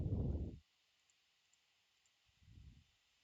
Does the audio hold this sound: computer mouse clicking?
yes